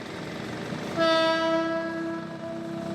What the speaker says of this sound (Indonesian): melihat kereta lewat yang posisi jalur keretanya itu berada di tengah kota seperti ini